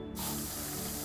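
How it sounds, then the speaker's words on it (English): Rust remover sprays onto rusty screws in Electrician Simulator VR, a single close, loud, continuous hiss lasting about a second. "Grab the rust remover on the right and give them a good spray."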